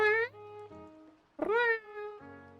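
A person imitating a cat, giving two drawn-out meows with sliding pitch, close and fairly clear, separated by a brief pause and trailing hum.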